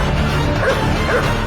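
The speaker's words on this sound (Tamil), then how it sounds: "விடாமல் மோப்பம் பிடித்து தேடிச் சென்ற மோப்ப நாய்கள்" Police sniffer dogs search a banana plantation, barking and yelping loudly in a brief, dense burst close by.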